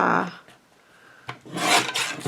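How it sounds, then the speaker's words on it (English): A sheet of cardstock is trimmed for a handmade card, giving two short, dry rasping strokes, one brief at the start and a longer one near the end, with quiet between them. "I'm going to trim the top off."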